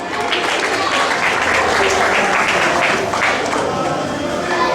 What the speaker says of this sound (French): Frère Vincent, on peut vous applaudir